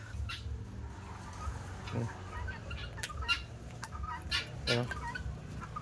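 A backyard flock of guinea fowl cluck and chatter nearby, with scattered sharp calls and clicking notes over a steady outdoor background.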